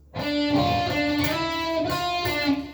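Electric guitar lead line from a solo to a song rings out, a few sustained notes slid and bent in a brief melodic phrase, played alone and up close.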